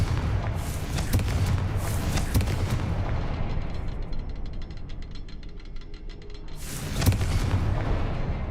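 Fiery Confringo spell blasts in Hogwarts Legacy, a loud barrage of booming explosions that thunder together at the start, fade into crackling debris, then burst again near the end.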